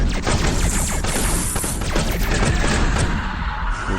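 Explosive rounds firing in Space Hulk: Deathwing, a loud, dense barrage of rapid blasts and crashes layered over one another with no pauses.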